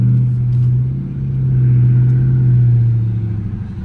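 A Dodge Charger R/T's engine rumbles steadily through a turn and U-turn, a deep low drone that swells and eases slightly over a few seconds, close and loud, with no talk.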